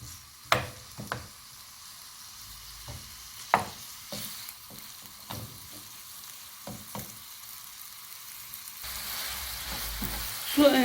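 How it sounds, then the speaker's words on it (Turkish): Ground meat sizzles and crackles as it fries in olive oil in a pan, with sharp scraping and stirring knocks from a utensil, the frying growing louder toward the end. "400 gram kıymamızı yarım çay bardağı sıvı zeytinyağıyla şöyle bir kavuracağız."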